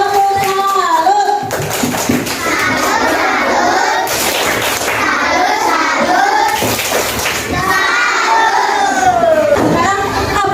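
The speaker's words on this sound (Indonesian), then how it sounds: "Tepuk salut dulu dong untuk kelompok 4." An elementary school class performs the 'tepuk salut' clapping cheer for group 4, with rhythmic bursts of clapping and children's excited chanting and shouting together, loud and close.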